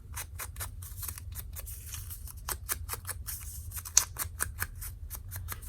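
Scissors snip through paper for a junk journal matchbook embellishment, a quick series of close, crisp cuts in an irregular rhythm over a quiet room hum.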